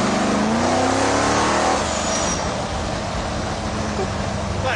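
Road-legal 2200 bhp car accelerating hard, its engine roaring loudly and rising in pitch over the first two seconds before settling into a steady, rushing drone, heard close from inside or beside the car.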